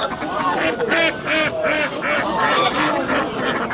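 Geese and ducks at a busy poultry market honk and quack repeatedly in a dense, overlapping chorus, with nearby voices of people talking under and between the calls.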